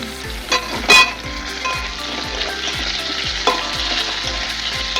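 Eggplant pieces fry loudly in oil alongside half-cooked potatoes, a dense continuous sizzle with a repeated low knocking rhythm from stirring and a brief louder spatter near the start.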